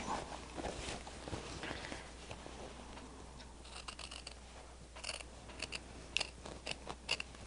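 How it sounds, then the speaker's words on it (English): Small scissors snip in quick, faint clicks, trimming material for a stained glass project, sparse at first and then a cluster of crisp cuts near the end, with no talking. "These little scissors, they trim the best at the very end."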